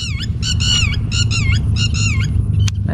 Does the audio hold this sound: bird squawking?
yes